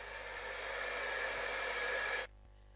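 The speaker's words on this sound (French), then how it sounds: "comme avec un sèche-cheveux" A hair dryer blows with a steady, airy whoosh for about two seconds, then switches off abruptly, leaving near silence.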